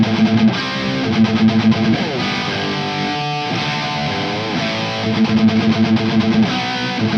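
Distorted electric guitar played dry through a Marshall DSL100 amp with no reverb, a heavy rock tone: chugging palm-muted riffs and sustained chords, loud and continuous, bass-heavy, alone without talk.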